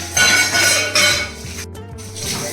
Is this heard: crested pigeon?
no